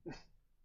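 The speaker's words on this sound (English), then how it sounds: "If you hear dogs in the background," A single short dog bark sounds faintly in the background of a home, one quick yap that fades into quiet room noise.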